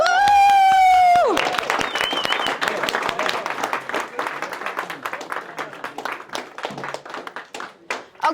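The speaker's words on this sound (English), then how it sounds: "Give them a round of applause." A sustained whoop opens a loud burst of applause and cheering from a training-session audience, with close, dense clapping that thins out toward the end, and a few voices mixed in.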